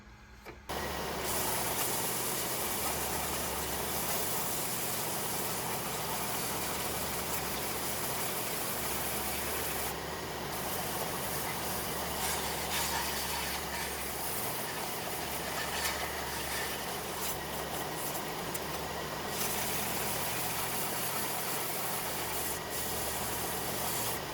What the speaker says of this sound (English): For the initial shaping of our handle, to get these nice and round and those edges curved off, I'm going to use my 4-inch belt sander.